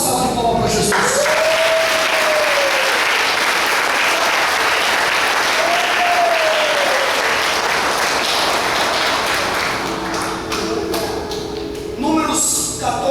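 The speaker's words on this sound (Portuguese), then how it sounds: "Dê uma salva de palmas para Jesus" Church congregation applauding and cheering for Jesus during a sermon, a dense, loud wash of clapping that fills the whole span, with crowd voices and a couple of rising whoops mixed in, easing slightly near the end.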